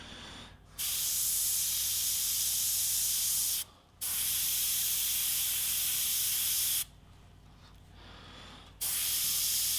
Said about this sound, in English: The airbrush that I'm using at the moment is an HPA Iwata.